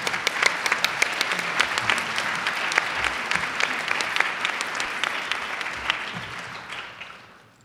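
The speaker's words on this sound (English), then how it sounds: "the round of applause that you all are generously giving everyone" An audience at a safe-schools conference gives sustained applause, dense steady clapping that stays full for several seconds before fading out at the end.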